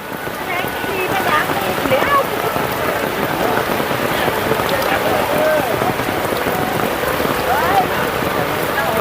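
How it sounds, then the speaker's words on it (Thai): Steady, dense rain pours down on a surface throughout at an open-air market, a constant hiss and patter with no break. "วันนี้บรรยากาศฝนตก"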